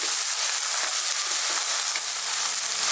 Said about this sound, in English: stirring all the time.